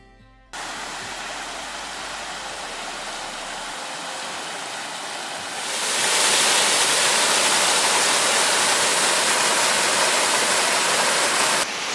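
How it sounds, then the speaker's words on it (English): Steady broadband roar of a waterfall in the Lake District, starting quietly then swelling louder midway and holding constant, with no voices. "So we'll take a look at the waterfall up here."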